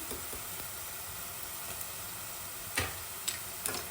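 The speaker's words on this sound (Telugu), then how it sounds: "ఇవి ఒక 5 మినిట్స్ ఉడికిన ఆనియన్స్ బాగా ఫ్రై అయ్యాయండి." Onions frying in a pan for mutton curry, a steady close sizzle throughout with a few sharp pops and ticks near the end, no talk.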